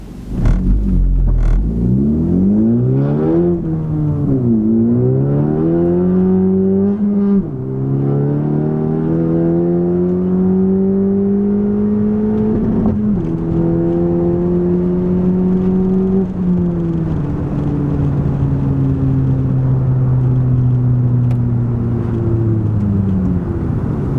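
Honda Type R racing another car around a private track in Mexico, its engine loud and close, revving up through gear after gear with rising whines and dips at each shift, sustained under continuous rumble with no talk.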